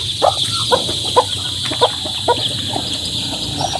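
Chickens and chicks cluck in short repeated bursts on a farm, close and loud over a steady high-pitched background hum.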